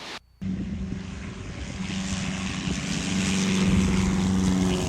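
Affordable twin-engine propeller plane climbing after takeoff, its engines a steady loud droning roar with a strong low hum, heard from inside after a brief dropout at the start and growing slightly louder.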